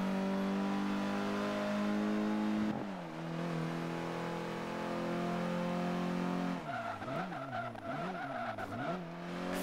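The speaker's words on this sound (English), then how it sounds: "Those brake sound effects sound awful." Braking car in the Forza Motorsport 5 racing game, a sustained engine drone giving way to a harsh, wavering squeal of brakes and tires that sweeps up and down in the second half, loud and alone.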